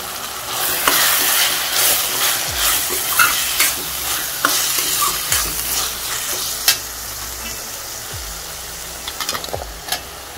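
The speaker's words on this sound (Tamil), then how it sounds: "இப்போ வச்சு வச்ச பருப்பு சேர்த்து வதக்கிட்டு காய் சேர்த்துடலாம்." Cooked dal sautéing with mashed tomato in a pan for bottle gourd kootu, a bright continuous sizzle with a few spoon scrapes and knocks against the pan, close up and with no voices.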